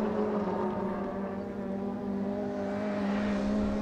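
Swift rallycross race cars with bigger, more powerful engines run across a loose-surface track in the senior class, their engine drone steady and continuous throughout, with no talking heard.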